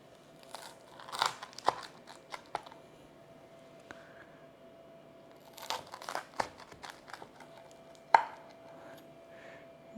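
A knife crunches and crackles through a crispy air-fried cheese pizza in several separate bursts of cutting, fairly close and moderately loud, with quiet pauses between the cuts.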